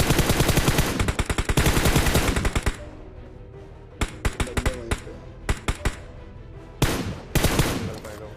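Automatic gunfire in the battle royale game BGMI on the Erangel map: a long, loud sustained burst, then a lull of scattered single shots and short bursts before another dense volley.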